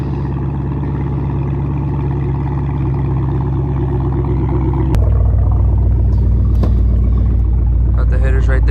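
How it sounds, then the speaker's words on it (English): A Chevrolet Camaro 2SS with its muffler and resonator deleted idles on a cold start with a loud, deep exhaust rumble that jumps noticeably louder and fuller about halfway through. "here's the last cold start. Muffler and resonator delete."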